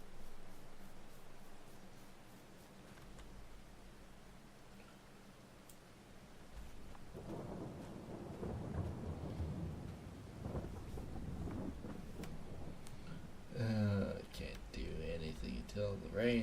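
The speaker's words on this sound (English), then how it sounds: "Until the rain stops." Thunderstorm with steady rain in the Farming Simulator 22 video game, a dull rumble of thunder swelling midway over continuous rain hiss, with a louder crack near the end and a voice speaking over it.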